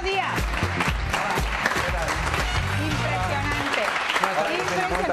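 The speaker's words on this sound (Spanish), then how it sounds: "Por favor, un fuerte aplauso para Flippi y Alfredo Díaz." A Spanish television studio audience applauds for a few seconds, a busy crowd clapping under music and lively voices.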